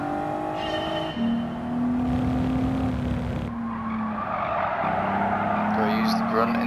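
A four-wheel-drive V6 car in Gran Turismo 7 drones with a steady tonal engine note that shifts pitch as it accelerates and changes gear, with tyre squeal and a voice talking over it.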